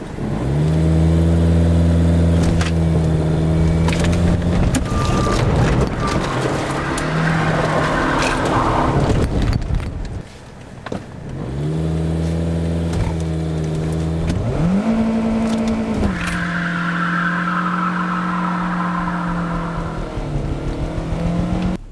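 A Toyota Corolla's engine revs hard and holds high through repeated reverse J-turns, with pitch rising and falling and a brief dip in the middle. Tire squeal runs throughout.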